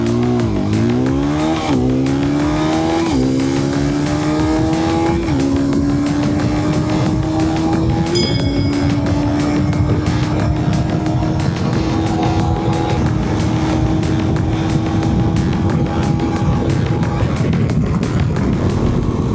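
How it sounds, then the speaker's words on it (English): Hero Xpulse 210 motorcycle accelerating hard from standstill to 100 km/h, engine note climbing through several gear changes, loud and close with steady wind noise throughout. "Let me try and do a 0 to 100 right over here."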